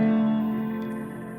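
Sustained tonal music from the False Memory iOS audio disintegration effect with its memory control raised, a steady harmonic drone that slowly fades, with faint smeared, echoing tails.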